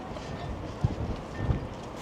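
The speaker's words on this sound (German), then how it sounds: "Es ist gerade sehr windig." Strong wind gusts across an outdoor station platform before a regional train ride from Cuxhaven, a broad rushing roar buffeting the microphone, with a couple of low thumps.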